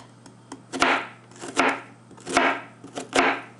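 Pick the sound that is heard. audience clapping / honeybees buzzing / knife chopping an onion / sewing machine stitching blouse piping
knife chopping an onion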